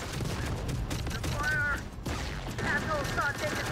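A big gun fires in the Terminator Dark Fate Defiance video game, a dense rumbling barrage of shots with short whistling tones and a brief dip midway, sustained and loud.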